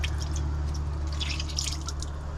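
Meltwater from melted ice in a cooler drips in a few quick, light drops, close by over a steady low background hum inside a van.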